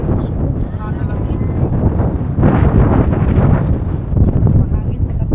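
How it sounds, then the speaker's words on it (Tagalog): Wind blowing outdoors, a steady broadband rush with gusts that swell and fade, running continuously under people talking nearby. "Mahangin sa labas."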